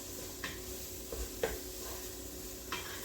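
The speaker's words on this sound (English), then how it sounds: "So that's being sauteed with the onions and the garlic and the tomatoes" Onions, garlic and tomatoes sautéing in sun-dried tomato oil in a pan, a steady low sizzle with a few soft stirring scrapes and clinks of a utensil against the pot.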